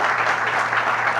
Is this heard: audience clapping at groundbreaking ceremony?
yes